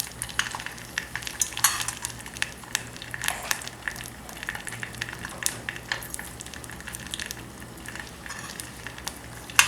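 Ingredients for a homemade hair oil fry in a pan over medium heat, giving a soft continuous sizzle broken by scattered crackles and spoon-stirring clinks, with no talking.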